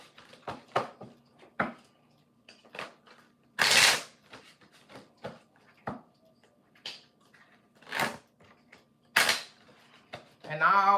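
Tarot cards being shuffled by hand in a series of short, crisp riffling bursts with brief pauses between, close and fairly clear, with no one talking.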